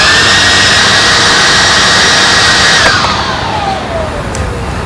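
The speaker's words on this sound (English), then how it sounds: "we now have the poop vac." A Sharper Image pet-waste vacuum runs loud and steady with a whirring, jet-like rush and a falling whine near the end, with no voices.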